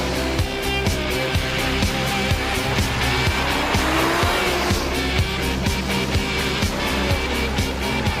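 A turbocharged Bugatti roars loudly close by, revving hard with repeated surges as the turbo comes in above about 5,000 rpm, with occasional tire squeal, no talking.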